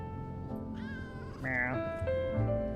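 A cat in the game Lies of P meows several times, drawn-out and wavering, with one louder cry in the middle over a steady low background hum.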